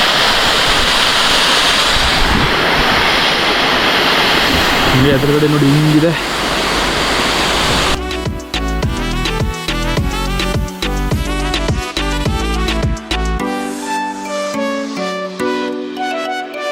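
Water from a hill at Mandalapatti pours down like a waterfall in a steady broadband rush for several seconds while someone briefly speaks, then music takes over.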